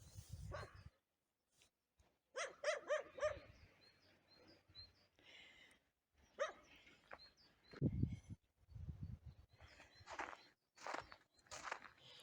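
A small dog outdoors in snow beside a greenhouse, giving a few short barks amid footsteps and birdsong, with people speaking quietly in between.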